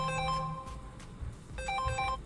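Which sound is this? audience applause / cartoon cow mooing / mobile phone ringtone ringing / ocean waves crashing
mobile phone ringtone ringing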